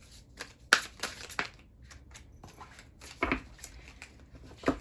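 Playing cards being shuffled and riffled, with a few sharp flicks and soft rustles at irregular intervals, fairly quiet and close.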